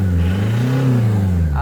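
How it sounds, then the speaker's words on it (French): A Renault Express 1.9 diesel engine revs in a brief burst, the pitch rising and then falling back to idle. The engine is close and loud, and it is smoking while being run to clear carbon deposits. "on fait des petits coups d'accélérateur comme ça, histoire de enlever la calamine"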